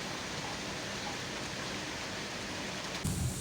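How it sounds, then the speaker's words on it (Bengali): Heavy monsoon rain pours in a steady, soft hiss of even wash throughout, with a brief low thump near the end and no speech. "আপনারা দেখতে পাচ্ছেন প্রচণ্ড জোরে বৃষ্টি হচ্ছে"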